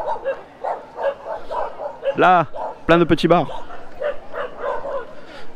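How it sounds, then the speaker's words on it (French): Stray dogs barking in a street in Mindelo, a few sharp yelping barks in a quick cluster, heard close and loud, with someone talking before and after them. "Ah, les chiens errants."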